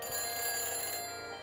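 A phone helmet's telephone rings after a number is dialed, a steady electronic bell tone with dense buzzing harmonics that continues through the whole stretch, close and fairly loud, with no voices.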